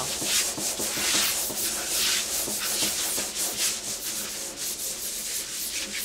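Continuous rough scratching of sandpaper rubbed by hand, a rhythmic back-and-forth rasp, loud and close with no talking.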